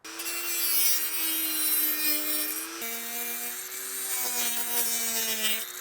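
A Dremel rotary tool cuts a fiberglass instrument panel for a car, giving a loud, close, sustained high whine with a steady pitch that dips slightly as the load changes, heard alone.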